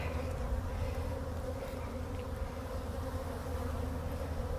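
Honey bees drone continuously around an opened hive during hive splitting and queen introduction, a dense, steady close buzz with no voices.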